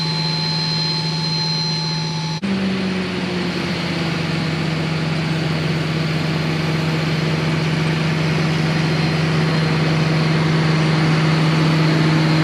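A farm tractor engine runs steadily while planting peanuts in a field, a loud continuous drone that shifts in pitch about two seconds in and then holds an even roar with no talking.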